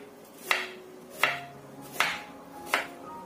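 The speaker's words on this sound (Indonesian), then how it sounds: "Setelah kita kupas bonggolnya, kita iris tipis aja supaya bisa matang barengan." A knife thinly slices a peeled broccoli stem on a cutting board, four crisp, evenly spaced chops close up with quiet pauses between them.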